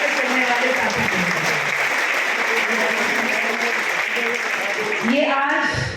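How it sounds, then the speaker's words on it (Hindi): An audience at a Congress party thank-you gathering in Ambala Cantonment applauds loudly and steadily for several seconds, a dense close wash of clapping with crowd murmur underneath that tapers off at the end. "आप सब एक जोरदार तालियों का राउंड हम सब के लिए"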